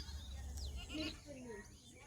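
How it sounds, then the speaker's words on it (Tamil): Goats passing by a house bleat in a few short, wavering calls close by, with a quiet background and some faint voices. "எல்லா ஆடும் நம்ம வீட்டில் வந்து ஒரு ஸ்டாப்பிங்கை போட்டுட்டு தான் போகுது"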